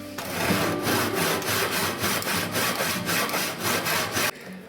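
A hand saw cuts through a wood blank for a ukulele neck in steady, rapid back-and-forth strokes. The rasping is close and loud and stops abruptly near the end.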